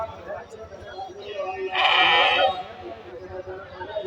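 Male goats butting and fighting inside a busy livestock market, with a burst of bleating and scuffling noise near the middle over constant crowd chatter and people talking nearby.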